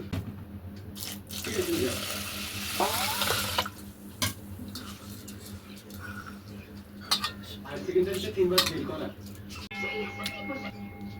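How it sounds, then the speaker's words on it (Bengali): Water pours into sago in a bowl, a broadband splashing rush about a second long, followed by lighter trickles and kitchen clatter while people talk throughout. "সাবুতে জল ঢেলে দিলাম"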